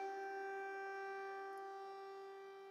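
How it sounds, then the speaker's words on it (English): An air raid siren wails steadily over Kyiv, a sustained tonal drone heard from a distance, faint and slowly fading over a few seconds with no voices. "We are hearing air raid sirens sounding off in Kiev."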